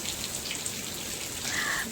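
Steady rain patters down outdoors in Konkan, a continuous soft hiss of drops on surfaces with no other sounds.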